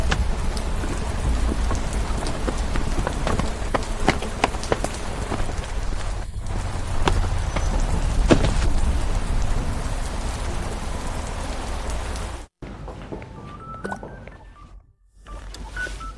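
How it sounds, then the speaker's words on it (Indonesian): Heavy rain pouring outside, a dense, loud, continuous roar of rainfall that cuts off abruptly near the end before a quieter, muffled stretch with a few faint tones. "Di luar hujan."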